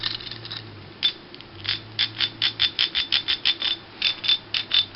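A ratcheting joint on a Gosei Great Megazord toy gives a rapid series of crisp plastic clicks, about twenty sharp ticks in irregular bursts, close and clear against a quiet background.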